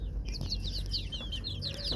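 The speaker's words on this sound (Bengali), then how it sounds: "এই তো আমার পছন্দের মুরগিটা" A desi village hen clucks in repeated short bursts, close and clear, over a low background of farmyard ambience. No one speaks.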